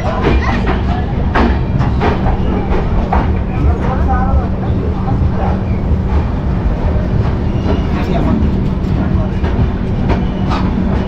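The 12369 Kumbh Express rolls along the rails with steady, loud clattering and rhythmic wheel thumps, a continuous roar heard from inside a 3E class coach.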